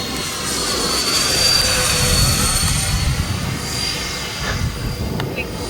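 Radio-controlled F-14 Tomcat model jet flying outdoors in gusty, turbulent weather, a steady loud turbine roar with a high whine, sustained and fairly close, with wind buffeting underneath.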